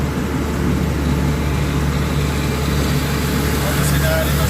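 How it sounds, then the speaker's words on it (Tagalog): A truck's engine idles nearby on a roadside, a steady low rumble running continuously while people talk over it. "Sinali ng truck yan."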